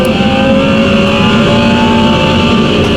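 A race car engine in a sim racing video game drones loudly and steadily at high revs, a sustained buzzing tone that holds nearly constant throughout.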